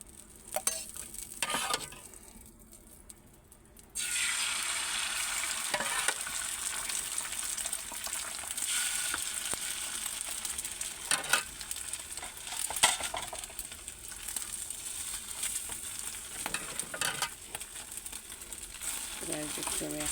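Homemade rolls fry one by one in hot oil. A few seconds of quieter clatter give way to a continuous, close bubbling sizzle with intermittent scraping and handling noises.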